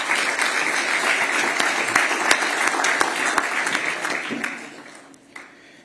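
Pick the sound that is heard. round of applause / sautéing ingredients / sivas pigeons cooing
round of applause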